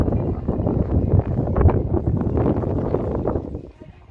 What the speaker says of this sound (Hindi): गर्म हवा एकदम पूरा गर्म हवा चल रही है